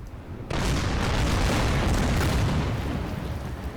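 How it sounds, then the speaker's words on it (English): Naval artillery bombardment from a Colorado class battleship in the World War II strategy game Order of Battle: Pacific, striking Betio Island: a sudden loud boom followed by a sustained, rumbling barrage of blasts with no voices. "We're gonna use basically everything we have in the area to bombard it, including a Colorado class battleship"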